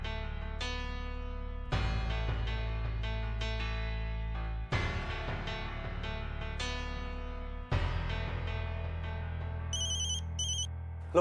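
A mobile phone ringtone plays a bright, melodic electronic tune in repeating phrases, loud and close, with no voices over it.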